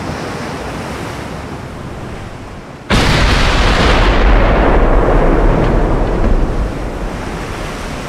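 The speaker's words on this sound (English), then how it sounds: "incoming fire once again against the Maryland" Naval gunfire in the Ultimate Admiral Dreadnoughts game, with a USA 1920 campaign sea battle, hits as one sudden heavy boom and then fades into a sustained roaring rumble like surf and wind.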